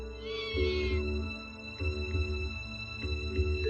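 A cartoon kitten in an old Doraemon episode mews in short, high cries, repeated about three times over a steady humming background score.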